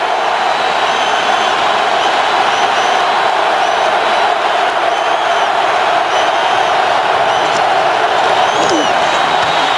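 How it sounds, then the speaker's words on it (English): A football stadium crowd at Heinz Field roars in a steady, dense wall of cheering for a Browns–Steelers game, with scattered whistles and shouts rising above the sustained noise throughout. "the crowd is going to be in full chorus right now for Colt McCoy"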